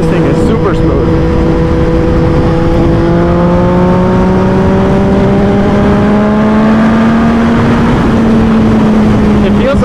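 A Triumph Daytona 675R sport motorcycle engine pulls smoothly through its revs in a steady rising drone. A rider's voice runs over it.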